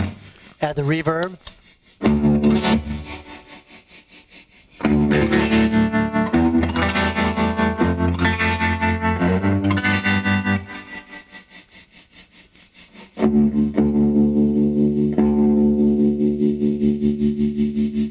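Electric guitar playing through a Grindrod Pendragon PGC40 C212 amp with heavy reverb and a slight wavering effect, chords ringing out and trailing off into a spacious wash.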